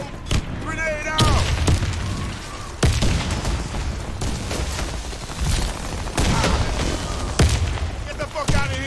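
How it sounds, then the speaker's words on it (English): Booming grenade blasts and bursts of gunfire in a tactical shooter video game land in heavy repeated bangs over several seconds while players shout commands over the gunfire. "Fire in the hole! Grenade out!"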